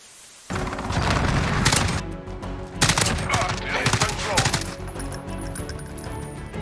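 Rapid bursts of FAL rifle fire in a first-person shooter: sustained automatic volleys with sharp, loud cracks that start abruptly and keep repeating, with brief gaps between strings of shots.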